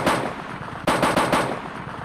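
Enemy automatic gunfire in ArmA 2 Operation Arrowhead: a rapid burst of shots, then a pause and several sharper, louder cracks in quick succession, all over a steady background rumble, with no voices.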